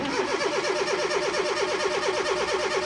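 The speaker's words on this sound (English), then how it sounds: "Now if I try and crank my engine," A Fiat Panda with a swapped engine cranks without firing because the immobilizer stays locked, the starter churning in a fast, even, repeating pulse for several seconds, close and steady.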